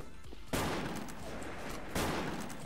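Gunfire in a shooter video game, two sharp bursts of shots about a second and a half apart, each followed by a sustained rumbling blast tail, loud and close.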